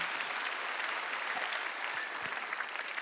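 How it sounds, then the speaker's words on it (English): A church congregation applauds together in a dense, steady wash of clapping that holds evenly for about three seconds, a full room of hands with no voices standing out. "Give yourselves a round of applause"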